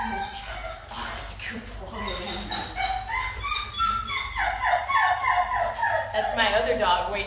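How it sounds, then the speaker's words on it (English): A dog waiting its turn during a training session whines and yips in high, wavering cries. Other noise and a voice can be heard in the background. "my other dog waiting to work over there"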